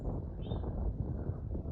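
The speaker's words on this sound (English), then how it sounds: "Probably can't hear me, it's super windy." Strong wind on a mountaintop along the Appalachian Trail buffets the microphone in a continuous low roar, gusting unevenly throughout.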